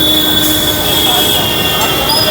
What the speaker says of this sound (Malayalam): നമ്മുടെ ട്രാം നേരെ വലത്തോട്ട് തിരിഞ്ഞ്